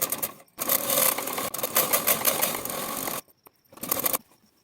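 A sewing machine stitches fabric while a cord (dori) is made, running in loud steady bursts with a short pause midway, then stopping before a brief final burst.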